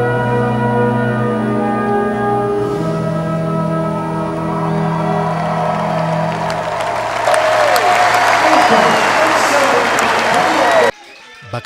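Stadium crowd roaring and applauding after the women's 10,000 metres race, a sustained broad wash of cheering that swells louder near the end, with a commentator talking over it.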